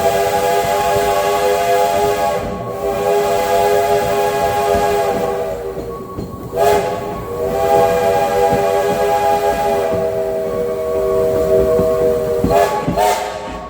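Steam museum trains running, with a strong harmonic steam whistle sounding in long repeated blasts over rumbling rail and engine noise, some brief breaks between blasts.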